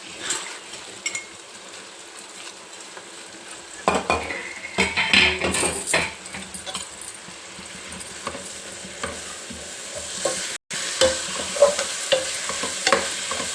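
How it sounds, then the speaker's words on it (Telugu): Chopped red gongura (sorrel) leaves fry in a pan for gongura chicken curry. A close, steady sizzle is broken by clattering spoon-and-pan stirring, a short cut-off, then more frying. "ఎర్ర గోంగూర వేసుకొని కొంచెం కలిపేసుకొని మూత పెట్టుకుందాం"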